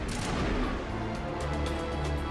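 Enemy gunfire in the video game Mass Effect, a dense continuous barrage of booming shots and impacts, loud and unbroken throughout.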